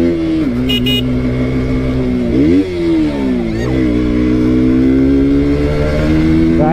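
A motorcycle engine hums steadily at close range while riding, with the pitch dipping and rising as the rider revs around a couple of moments.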